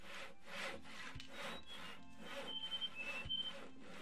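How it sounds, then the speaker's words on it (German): Hand sawing of wood in the Gothic 2 video game, a steady back-and-forth rasp of about eight strokes at moderate volume, with no voices. "Ja, die sägen hier nur rum."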